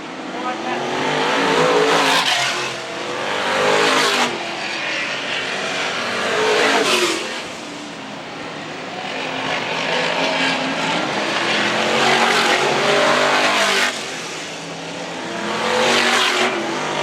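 Stock cars race around the Arlington Stadium oval, engines roaring past in repeated swells as cars come near and fade away, with a commentator talking over the continuous racing noise.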